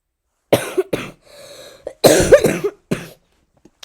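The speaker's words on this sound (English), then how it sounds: "Little cough." Several short, sharp coughs in quick bursts, close by, with a brief throat-clearing rasp between them and quiet gaps after.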